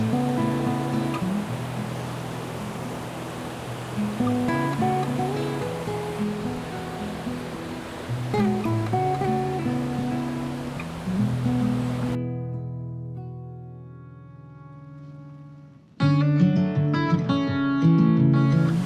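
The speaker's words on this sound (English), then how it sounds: "because lots of rushing water" Rushing water of a fast West Country stream on the River Lyn, a loud steady broadband roar close by that drops out briefly near the end before surging back, with no talk.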